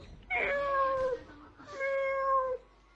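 A person imitates a cat, giving two drawn-out, nasal meows in quick succession, close and loud with a short pause between them.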